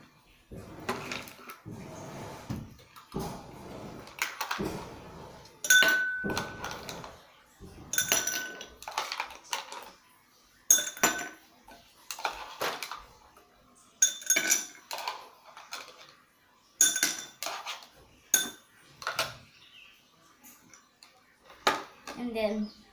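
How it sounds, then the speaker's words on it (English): Ice cubes are dropped into a glass while making dalgona coffee, a series of bright clinks and clattering knocks in uneven bursts with short pauses, close up. "put the ice cube into the glass."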